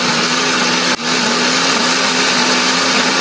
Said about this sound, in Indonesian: Ini bahan akan kita blender.